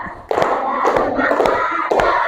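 A classroom group clapping in unison, several sharp collective claps spaced apart over a steady crowd murmur, fairly loud and close.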